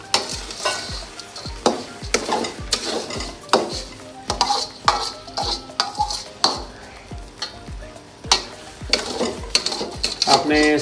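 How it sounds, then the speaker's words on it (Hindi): A spoon scrapes and stirs semolina halwa in a pot, making constant clanking and scraping strokes against the metal. The halwa sizzles softly underneath, and the stirring runs steady and close. "आपने स्पून जो है वो बिल्कुल हिलाते रहना, साथ रुकना नहीं है।"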